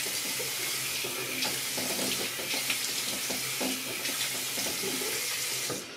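Tap water runs steadily into a sink while a face is wetted for a double-edge wet shave, a continuous close splashing hiss with small drips and splashes throughout, no talking.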